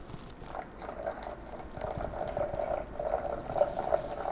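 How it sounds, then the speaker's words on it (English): Water poured in a circle into a Toddy cold brew coffee maker makes a soft, continuous trickling splash that swells slightly toward the end, heard alone and fairly quiet. "of water poured in a circle,"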